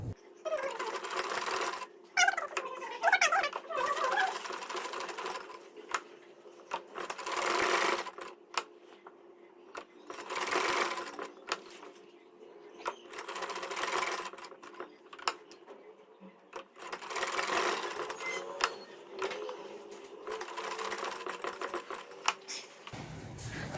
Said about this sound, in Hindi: चलिए अब इसको भी उसी तरीके से सिलाई लगाते हैं।